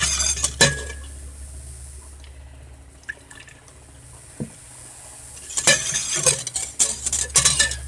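Stirring a peach jam mixture in a pan, with spoon scrapes and clinks against the metal at the start and a busier burst of scraping and tapping toward the end, quieter in between.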